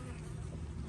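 Honeybees hum in a dense, steady buzz at close range while a hive is opened and inspected, faint overall and unbroken.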